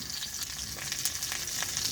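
Banana spring rolls (turon) fry in hot oil outdoors, giving a steady, close crackling sizzle with small pops throughout and no voices.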